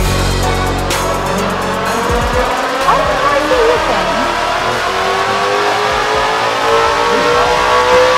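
An X550 car drives and revs with rising engine roar and some tire squeal, loud and close, while people talk over it.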